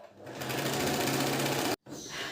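A sewing machine stitching a princess cut blouse runs in a fast, steady mechanical rattle, close and loud, stopping abruptly for a moment before starting again.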